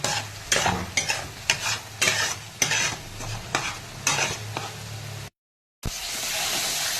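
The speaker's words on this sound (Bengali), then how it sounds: "মশলাগুলো দিয়ে ভালো করে নাড়তে হবে যতক্ষণ না মশলাগুলো সাইড থেকে তেল ছাড়ে।" Spices sizzle and fry in hot oil while a spoon or spatula stirs them in repeated scraping strokes, close and fairly loud; a brief silent gap follows, then steady frying hiss resumes.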